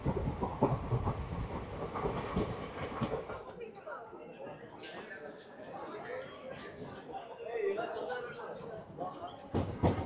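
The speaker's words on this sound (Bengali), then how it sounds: "তো আমাদের ট্রেন এসে পৌঁছেছে মুর্শিদাবাদ জংশনে" A train rumbles along the tracks with rhythmic clatter, arriving at Murshidabad Junction in India, while people talk nearby over the noise.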